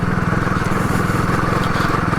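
Motorcycle engine chugging steadily and loudly up close with a rapid pulsing beat, ridden over a rough road of stones and boulders in the mountains between Dharchula and Nabi, the rear wheel slipping.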